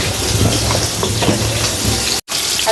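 Fish frying in oil in a pan on a home kitchen stove, a loud, close, continuous sizzle with faint splashy crackle, briefly cut off near the end.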